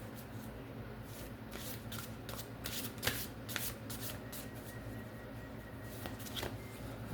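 Tarot cards being shuffled by hand: a continuous run of crisp papery riffles and flicks with a few sharper snaps, close up over a low steady hum, with no talking.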